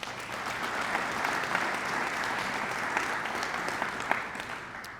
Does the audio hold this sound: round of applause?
yes